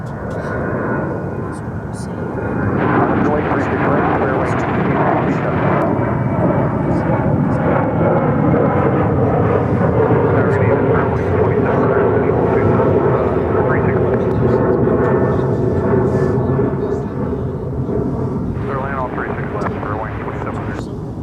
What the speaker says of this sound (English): Our next departure is American Airlines Flight 2100 heading to Santa Ana, California. It's a 737-800.